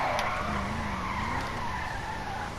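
Car tires squeal continuously as a Declasse Drift Yosemite truck drifts in GTA Online, a loud steady skid over engine drone with no talking.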